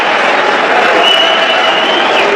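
Stadium crowd at a Pakistan versus South Africa Test match cheering a well-struck shot, a broad steady roar of many voices that stays loud and even throughout, with no single voice standing out.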